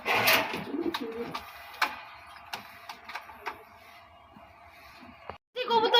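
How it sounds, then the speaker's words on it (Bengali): Three pairs of Giribaz pigeons cooing in a loft, soft low coos with sharp ticking clicks scattered through, close and fairly quiet, ending in a brief cut and a louder burst. "কবুতর হচ্ছে গিরিবাস তিন জোড়া দেখতেই পাচ্ছেন"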